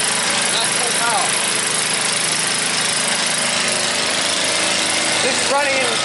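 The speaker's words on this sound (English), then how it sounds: "That's full power." A Honda HRU216M1 lawn mower's small engine runs steadily at full throttle after a cold start, a loud continuous drone with faint voices briefly audible over it.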